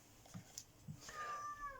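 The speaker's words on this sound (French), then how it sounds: "si vous entendez miauler et gratter à la porte," Cats meow behind a closed door, sounding muffled and slightly distant: a few soft sounds early on, then a longer drawn-out meow that rises and fades over the last second.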